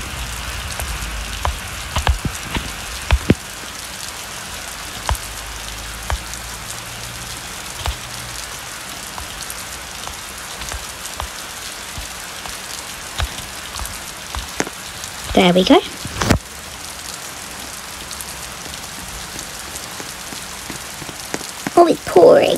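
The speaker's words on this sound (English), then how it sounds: "Oh, it's pouring." Heavy rain pours steadily in a Roblox Bloxburg game, a continuous hiss of drops on surfaces with scattered clicks, and a voice speaks briefly over it.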